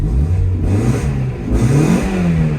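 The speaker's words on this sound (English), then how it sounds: "it revs out way nicer than it did" A Mazda Miata engine with new spark plugs and wires revving up and down repeatedly, close and loud, rising and falling in pitch.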